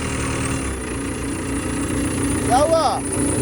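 The cold diesel engine of a struggling earthwork machine rumbles loudly and steadily, then a short rising whine swells near the end as it is revved in first gear. Voices talk over the engine.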